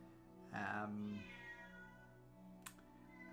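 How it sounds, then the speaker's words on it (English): A domestic cat meows in the background of a room just before being fed, one drawn-out meow followed by fainter murmuring, moderately distant over a steady hum. "That's our cat in the background meowing because she's about to get food."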